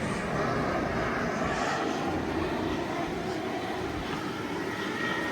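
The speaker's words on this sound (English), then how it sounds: "There comes some students on the airplane right now" Steady broadband roar of a fixed-wing airplane passing overhead at a boat transom in the British Virgin Islands, loud and continuous throughout with no talking.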